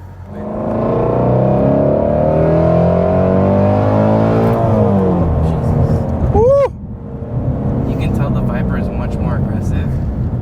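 A Ford Mustang Shelby GT350R or GT500 sports car engine roars loudly and steadily, pitch climbing under heavy revving, then briefly dropping before surging again with crackling exhaust.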